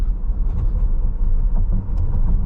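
A 2022 Tesla Model S Plaid cruises under light throttle, giving a steady low road rumble and tire hum inside the cabin with no speech.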